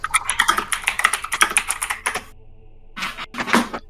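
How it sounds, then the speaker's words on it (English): Loud, fast typing on a computer keyboard with noisy switches, dense clattering keystrokes up close, a short pause, then another burst of keys. "is aggressively typing. I'm sorry, my keyboard is loud."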